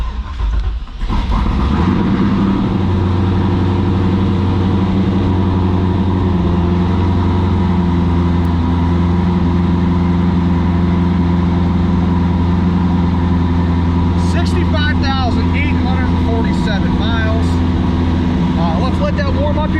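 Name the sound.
2002 Chevy Corvette Z06 LS6 engine starting and idling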